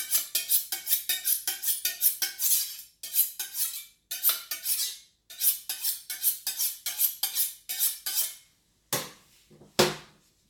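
Knife chopping jalapeno peppers, seeds and all, on a board: fast, crisp, rhythmic cuts in quick bursts with short pauses, close and clear, ending with a couple of isolated strikes.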